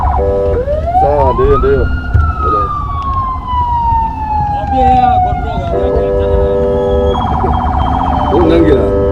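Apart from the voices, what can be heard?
siren sounding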